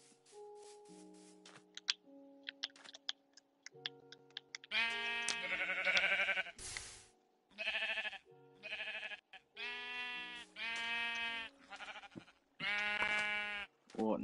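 Sheep bleating in the Minecraft video game, several separate harmonic bleats repeating in quick succession, loud and close, with short game tones and clicks between them.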